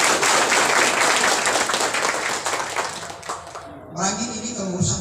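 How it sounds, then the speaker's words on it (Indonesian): An audience gives Banser Ansor Kabupaten Merangin a round of applause, steady clapping from a crowd that thins and fades toward the end as a voice returns. "Sekali lagi tepuk tangan buat Banser Ansor Kabupaten Merangin."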